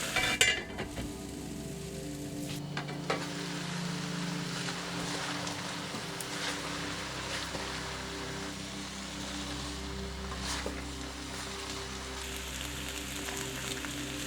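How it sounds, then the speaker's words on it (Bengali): Mixed vegetables sizzle in a pan as they are stirred for a curry, with a steady frying hiss, occasional scraping and clinking, and a low background hum throughout. "সব সবজিগুলোকে নেড়ে নিয়ে ঢাকনা দিয়ে দিব 10 মিনিটের মতন।"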